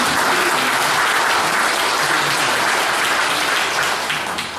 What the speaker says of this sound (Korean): 박수로 한번 격려해 주십니다.